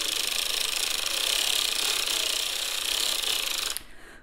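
A hand-cranked sock knitting machine turns steadily, its ratchet giving a dense, continuous run of fine mechanical clicking that stops abruptly near the end, leaving a faint hiss.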